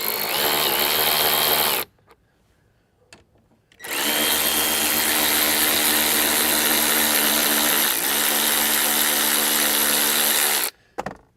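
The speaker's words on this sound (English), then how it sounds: "let's go ahead and use the wrench and get those out of there" A power wrench backing bolts out of a Ford Bronco grab handle mount, two loud sustained whirring bursts close up, the first short and the second running about seven seconds, separated by a brief quiet pause with faint clicks.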